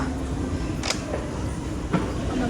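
A train rides between stations in Nagoya, Japan, with a steady rumbling hum from inside the car and a couple of brief rattles and squeaks along the way.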